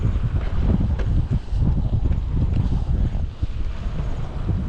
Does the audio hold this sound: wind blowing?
yes